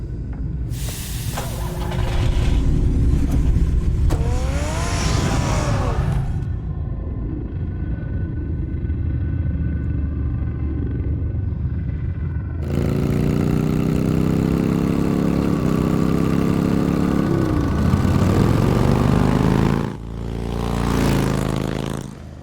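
A car engine in a Batman video game rumbles steadily at idle, heavy and low. It runs for over twenty seconds, shifting in tone and intensity in distinct stretches, with no talk over it.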